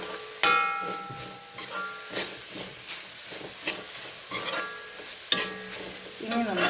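Crushed chilli fries in a pan under a quiet sizzle while a spoon scrapes and stirs repeatedly, with several ringing metallic clinks against the pan and no speech.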